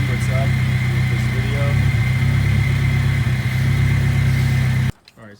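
A Nissan 240SX with an SR20 engine idles with a steady, close, rumbling hum for about five seconds, then abruptly cuts out and stalls, leaving near silence with a faint trailing sound.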